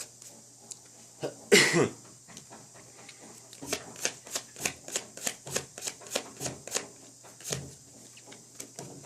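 A deck of playing cards is shuffled once with a loud riffle, then single cards are counted off and moved one at a time in a steady rhythm of soft, close snaps during a card trick.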